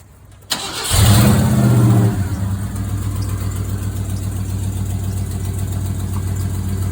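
An old Ford F100 pickup truck with a wood bed cranks briefly, catches with a loud roar, then drops to a steady rumbling idle close by.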